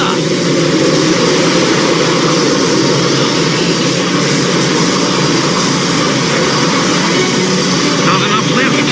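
An aircraft engine roars steadily and loudly during liftoff in an animated show, a dense, unbroken drone with voices speaking over it.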